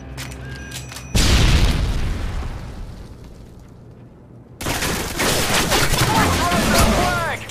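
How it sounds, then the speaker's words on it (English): Stun grenade blast in Call of Duty: Modern Warfare 2 multiplayer capture the flag on Highrise: two loud, abrupt bursts a few seconds apart, each trailing into ringing noise, with gunfire and players' voices around them. "Throwing a stun grenade!"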